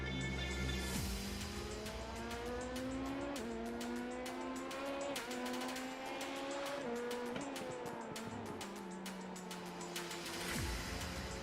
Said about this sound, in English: Car's loud.